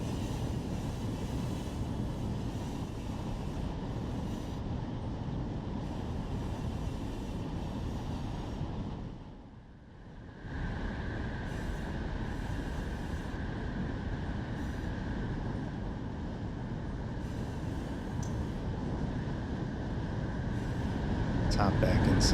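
A long freight train rolls down over the Cajon Pass summit in the Run 8 Train Simulator game, a steady, dense rumble of cars and wheels that briefly dips near the middle, then swells louder toward the end.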